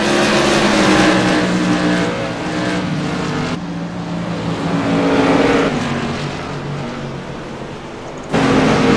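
Modified race cars race at Southern National Motorsports Park. Their engines roar and rev loudly as they sweep past, the pitch rising and falling with the track noise, then a sudden loud surge at the end.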